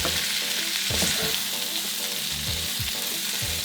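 Onions and peppers sautéing with bits of salmon, a loud continuous sizzle broken by stirring thumps and scrapes of a utensil in the pan.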